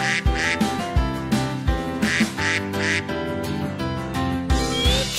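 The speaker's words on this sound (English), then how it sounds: "he led the others with a quack, quack, quack" Duck quacking in a children's phonics nursery song, repeated bright quacks set over continuous music, steady and loud.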